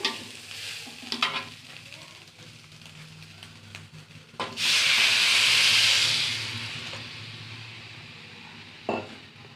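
Rice and lentils frying and being stirred in a pan for khichuri, with scraping and low sizzle that swells into a loud, steady hiss midway, then eases back before a final clatter.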